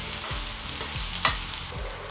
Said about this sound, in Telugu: ఇప్పుడు మనము ఉల్లిపాయ ముక్కలు, సన్నగా తరుక్కున్న ఉల్లిపాయ ముక్కలు, ఆనియన్ ముక్కల్ని మనం ఫ్రై చేసుకోవాలి ఆయిల్లో